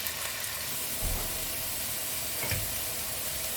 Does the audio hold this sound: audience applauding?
no